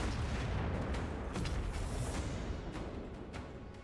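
Distant booming bursts of a Grand Cannon in a strategy video game battle, a steady rumbling wash of artillery with a few sharper cracks, fairly faint throughout.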